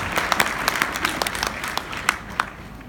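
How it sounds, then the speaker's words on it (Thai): An audience at a seminar applauds: a full burst of steady clapping from a roomful of people, with sharp individual claps standing out, gradually thinning toward the end. "ขอเสียงปรบมือ"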